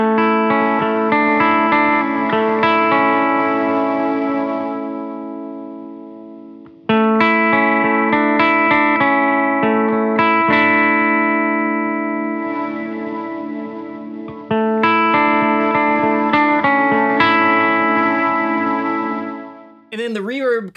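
A guitar played through an LCO Industries Ours & Hours lo-fi reverb pedal, sustained chords washed in murky, chorused reverb, loud and alone, with a pitch-warbling swell right at the end.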